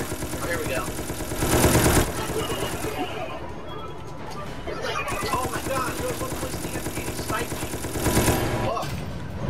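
Rapid automatic gunfire in the video game Resident Evil: Operation Raccoon City, with sustained bursts and louder peaks over game effects, while players talk over it.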